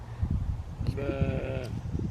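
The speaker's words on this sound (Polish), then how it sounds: "W ogóle tutaj są takie śmieszne owce." A single sheep bleats once on a farm in Australia, a clear wavering call near the middle, over a low, steady background rumble with no talk.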